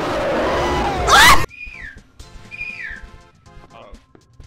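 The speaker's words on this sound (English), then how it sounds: "Quit whistling!" A person whistles two short falling-pitch notes in a quiet room, each whistle rising then sliding down, following a sudden loud burst of noise that cuts off abruptly.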